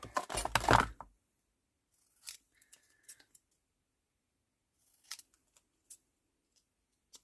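A brief burst of rustling handling noise, then a few sparse, quiet snips and clicks of scissors cutting paper, with silent gaps between them.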